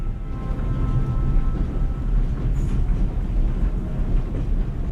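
A game train rolls along the tracks in a steady, dense low rumble with faint clatter, filling the whole stretch near and continuous with no talk over it.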